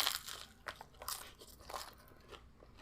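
Loud, close crunching from a bite into a Taco Bell hard-shell beef taco, crisp shell cracking in a few sharp bursts followed by chewing crackles, with no talking.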